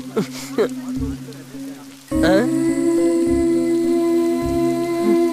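Steady rain falls at full strength with a dense hiss that surges louder midway, laid under a sustained musical tone and dramatic low booms.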